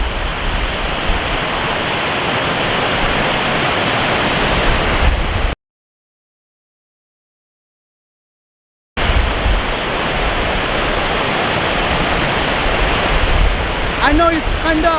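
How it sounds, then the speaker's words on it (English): A powerful, high-pressure waterfall near Wawa, Ontario roars as a loud, steady broadband rush, cut by a few seconds of dead silence midway before the same constant torrent resumes. "I know it's kinda noisy waterfall, high pressure of water."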